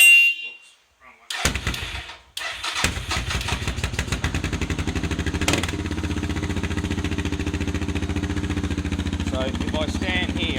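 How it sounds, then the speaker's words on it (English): Motorcycle fitted with a DG O series muffler and a 1-inch quiet core starts up and settles into a steady, rhythmic, throbbing idle close by, with a voice talking briefly. "So I'll just crack the bike on."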